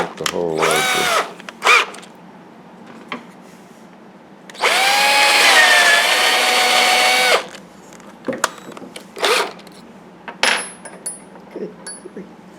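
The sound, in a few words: power drill enlarging a hole in wood carving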